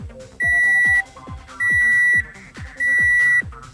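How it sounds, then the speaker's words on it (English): A Toyota Camry sounds its maintenance reset signal: three long, steady electronic beeps at an even pace, each lasting about half a second, over a faint background of softer tones. "Keep holding that reset button until you hear a series of 5 long beeps like this."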